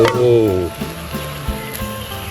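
Beef shank goes into a pot of boiling water for a northeastern Thai beef stew, bringing a soft, steady bubbling sizzle with a few light knocks. A voice is heard briefly at the start.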